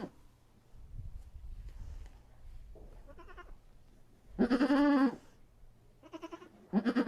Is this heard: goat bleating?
yes